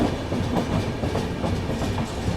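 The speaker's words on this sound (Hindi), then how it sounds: "ये जो ट्रेन है ये आ रही है आप लोगों की दोस्तों रुड़की की ओर से" Passenger train rolling in toward Laksar Junction from the Roorkee side, a steady loud rumble with repeated clickety-clack of wheels over rail joints, no voices.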